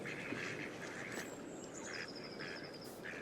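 Ducks quack on and off across a pond in Farming Simulator 22, faint and a little distant under a steady outdoor ambience with a thin high whistle drifting through.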